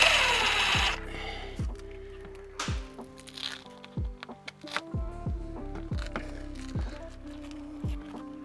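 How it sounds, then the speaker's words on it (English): A power drill in forward mode drives a screw into a hard surface while fitting an insulated privacy panel, the motor whirring in several short bursts that rise and cut off, with clicks and knocks between them. "you'll just be kind of on your forward mode, screwing it in, and it's gonna be basically trying to screw into the hard surface that's in there"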